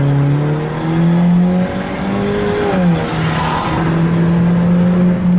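A Volkswagen Golf 7 engine revs hard as the car accelerates to overtake, rising in pitch through the gears with a brief dip at a shift. The drone is loud and close, heard from inside the cabin.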